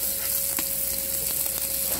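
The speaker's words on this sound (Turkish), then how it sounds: "Öncelikle yağları biraz kavuracağım." Pieces of fat sizzling as they are browned in a pan, a steady, close, crackling fry with small pops and a faint constant hum underneath.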